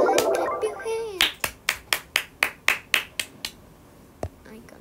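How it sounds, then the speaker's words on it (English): One person claps hands about ten times in an even, close and crisp rhythm, then gives one last clap after a short gap. A brief bit of talk comes first, while the person is playing a mobile strategy game. "Everybody clap your hands."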